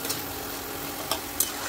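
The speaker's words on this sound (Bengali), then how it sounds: "তো এটাকে ভালো করে গরম তেলের মধ্যে নাড়াচাড়া করে কষে নেব একদম সুন্দর মতো করে" Spice paste with melted tomatoes stir-fried in hot oil for a Bengali fish curry, a soft, steady sizzle with two brief scraping clicks of a spatula, close and fairly quiet.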